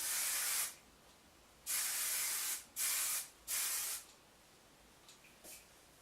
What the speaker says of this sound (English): you're just going to give it a quick mist while it's over